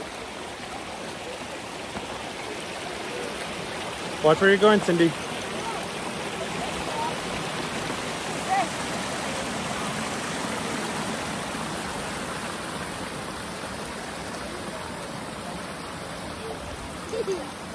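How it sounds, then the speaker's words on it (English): River water flows steadily as hikers cross on foot in Hot Springs National Park, a constant broad rushing hiss with a few brief splashes and footfalls, and people talking over it now and then. "we are crossing the river."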